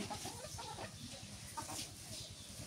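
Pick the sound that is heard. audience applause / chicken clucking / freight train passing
chicken clucking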